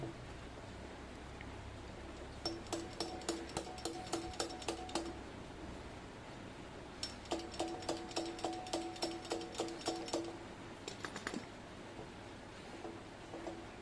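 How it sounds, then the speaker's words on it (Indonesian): A jammed air-conditioner compressor, split open, has its rotor forced round by hand, giving rapid, evenly spaced metallic ticks and ratcheting clicks in three separate runs with short pauses between, close and fairly loud. "lalu kita putar paksa rotornya sampai benar-benar lancar"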